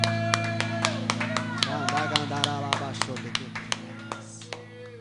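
A church congregation claps in rhythm during worship to praise the Lord, sharp regular hand claps over a steady organ or keyboard drone, with a voice speaking or singing over the music in the middle.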